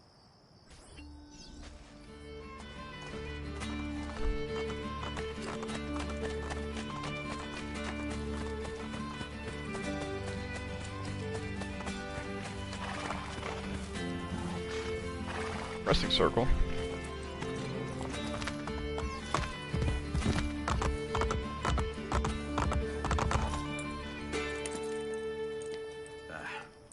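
Rhythmic hoofbeats of a galloping horse in Assassin's Creed Brotherhood run steadily under game music, with brief voices speaking over the top.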